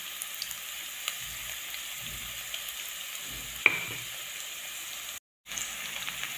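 Mixed vegetables for vegetable fried rice sautéing in a pan, heard as a continuous soft sizzle with occasional stirring taps. One louder clink stands out, and the sound breaks off briefly near the end.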